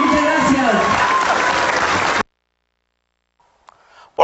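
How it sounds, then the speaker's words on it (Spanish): Applause for the governor of San Luis Potosí and his cabinet at a public event in Temazunchales, a dense burst of clapping lasting about two seconds before cutting off abruptly into near silence, followed by faint stray sounds. "solo les pido un gran aplauso para el señor gobernador y todo su equipo de gabinete"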